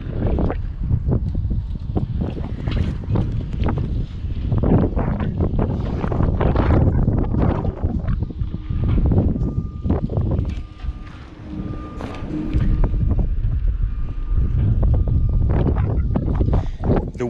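Strong gusty wind buffets the microphone throughout, a loud rumbling roar that rises and falls in waves outdoors at a crane offload, with faint mechanical sounds underneath.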